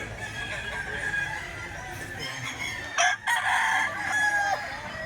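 A rooster crows amid steady clucking from several chickens, with a constant background hum around them.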